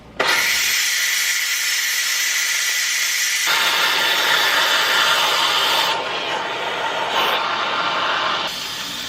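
A pressure cooker full of applesauce being opened, giving a loud, steady rush of hissing steam that shifts in tone and then eases, with no talking.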